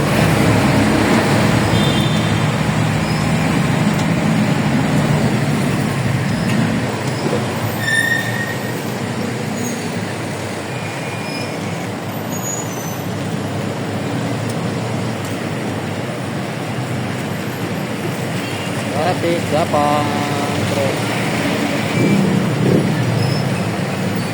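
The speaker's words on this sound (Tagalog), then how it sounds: "Sobrang traffic mga dudes." Heavy road traffic crawling along Maligaya Road in Caloocan: a loud, unbroken roar of engines and tyres with occasional high squeals and brake whines, filling the whole stretch without letup.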